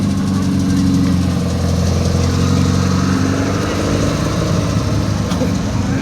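A car engine idles loud and close at a hardcore car meet in Manila, a steady low rumbling drone that holds evenly for the whole stretch with no talk over it.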